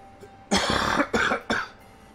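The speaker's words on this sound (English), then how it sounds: "still got my cough." A man gives three close, harsh coughs in quick succession, each a short rough burst with brief gaps between, alone and without talking.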